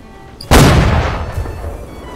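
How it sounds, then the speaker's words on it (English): A ship's cannon fires in a naval video game at sea, one sudden heavy boom that hits hard and rolls away into a long rumbling decay, with no voices over it. "don't shoot at our allies with the cannons"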